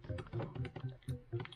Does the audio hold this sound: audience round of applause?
no